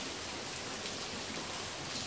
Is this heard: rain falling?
yes